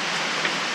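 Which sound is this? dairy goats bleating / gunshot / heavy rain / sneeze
heavy rain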